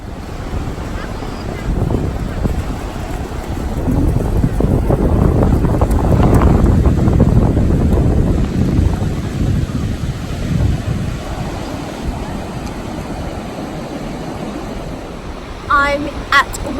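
Wind buffeting the microphone at Woolacombe Beach in Devon, with rushing surf beneath, a loud sustained roar that peaks in the middle and eases toward the end.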